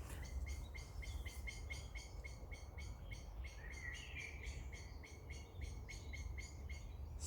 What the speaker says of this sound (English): That bird is part of nature, part of the universe.